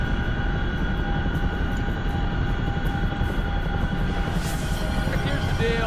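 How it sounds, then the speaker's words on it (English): Steady roar of a Chinook helicopter's engines in a video game, loud and unchanging, with a brief hiss of extra noise near the end and no talking. "I'm not going to take that Chinook back up."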